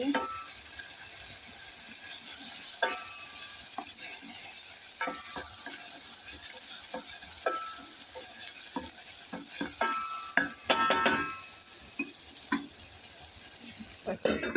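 Onion with added garlic frying in a pan, a steady sizzle of hot oil broken by repeated scraping and clicking stirs of a utensil against the pan, close and moderately loud, with a brief burst of clatter near the end.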